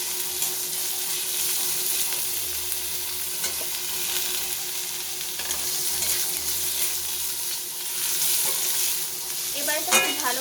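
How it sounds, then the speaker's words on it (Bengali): Chopped onion and tomato frying in a pan for a mustard pabda fish curry, a constant bright sizzle with scraping and stirring sounds up close, running steadily without speech. "টমেটো দিয়ে ভেজে নেব।"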